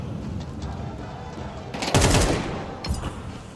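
Gunfire from a Counter-Strike 2 esports playoff match: a loud, close burst of rapid shots rings out midway, followed by a shorter crack a moment later over a steady background bed.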